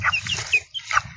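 Chickens cluck in short bursts close by, a few bright calls over a low rumbling background.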